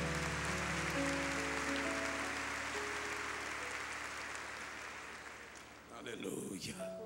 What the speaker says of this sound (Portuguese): vamos aplaudir a Jesus pela vida dos irmãos